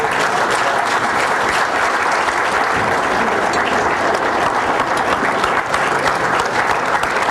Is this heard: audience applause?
yes